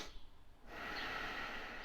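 One deep breath taken as a breathing exercise: a soft inhale followed by a longer, louder rushing exhale, heard close and on its own.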